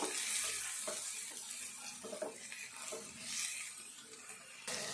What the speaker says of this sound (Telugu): కరివేపాకు వేసుకుందాం ఇప్పుడు ఇదంతా కొంచెం మంచిగా ఇది వేగాలి